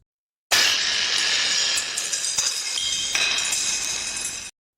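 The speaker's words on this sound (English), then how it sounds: "a real vase hitting the marble floor" An AI-generated glass vase shattering on a marble floor: an abrupt crash followed by a bright, sustained shimmer of tinkling, clinking glass fragments that fades out after about four seconds.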